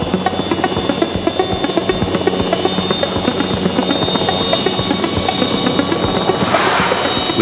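Helicopter engines run loud and close in a steady, rumbling drone with a fast rhythmic rotor chop throughout, unbroken and with no voices.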